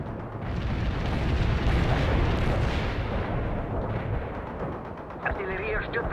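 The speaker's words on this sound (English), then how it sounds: "Launching a barrage." Artillery barrage in the real-time strategy game World in Conflict, a loud dense rumble of overlapping blasts and booms rolling on for several seconds, with a faint voice coming in near the end.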